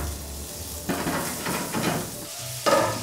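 Guanciale sizzling in a pan without oil over raised heat for pasta all'amatriciana, a close, steady crackling hiss with a few stirring scrapes, no talk.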